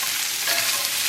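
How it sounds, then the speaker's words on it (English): Finely chopped onions and bacon sizzle in a frying pan while being stirred, a steady hiss with soft scraping close by. "the bacon browns and the onions slowly caramelize"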